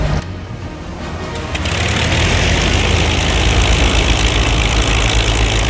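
P-40 fighter engine in the IL-2 Great Battles flight game, throttled up to maximum RPM on the ground, a loud steady propeller roar that swells after the first second and holds, with no talk.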